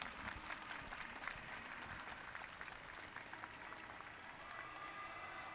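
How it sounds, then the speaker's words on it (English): Audience clapping at a FIRST Tech Challenge robotics state championship in Texas, a steady, sustained round of applause from a crowd in a large hall, fairly distant and even throughout. "Give them a round of applause, please."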